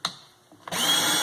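A Porter Cable 20V cordless drill: a brief click and short whir, then the motor kicks in and whines loudly and steadily at close range.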